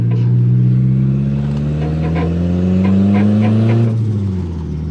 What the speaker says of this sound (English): Car feels real good.